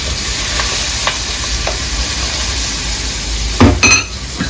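Garlic, onion and red pepper sizzle steadily in a hot pan, with a few stirring scrapes and a brief louder clatter near the end.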